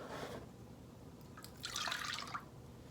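Almond milk and cream poured into a measuring cup for bread pudding: a soft liquid trickle and fill sound, close and fairly quiet, with a brief early splash and a fuller pour in the second half, no talking.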